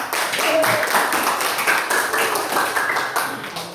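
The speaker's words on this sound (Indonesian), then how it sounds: "Tepuk tangan dulu untuk semua" A classroom group applauds everyone during a lesson session, a busy, fairly close burst of many hands clapping that runs steadily for a few seconds before easing off slightly.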